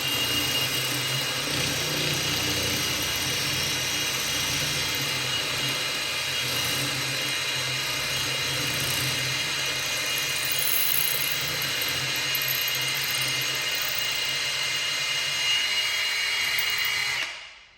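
Milwaukee drill boring into concrete, a loud steady whining grind that runs continuously for the whole stretch before cutting off abruptly at the end, with no talking.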